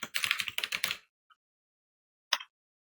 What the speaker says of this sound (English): so I'm just going to type in my email here